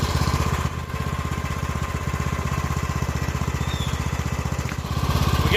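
A riding lawn mower engine runs steadily at a fast, even putter, loud and close, with one small dip in the rhythm partway through and no voices.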